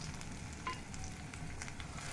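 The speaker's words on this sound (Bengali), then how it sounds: "আদা রসুন পেস্ট গন্ধ যাওয়া পর্যন্ত ভালো করে ভেজে নিতে হবে" Ginger garlic paste fries in a pan with a steady, continuous sizzle, heard close and alone with faint stirring scrapes mixed in throughout.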